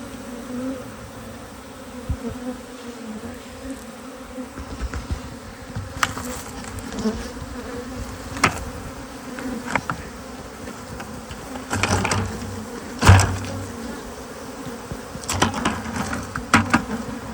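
A large swarm of agitated honeybees buzzing steadily during removal from a house, a dense continuous drone with occasional closer passes and faint knocks, no voices.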